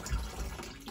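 Water runs steadily from a tap or hose at a washing machine, a close, low rushing flow with light dripping texture, heard alone.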